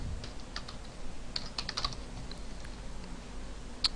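Keys on a computer keyboard clatter in quick, uneven bursts while text is entered into a web form, close and fairly clear with short pauses between runs of strokes, no voices present.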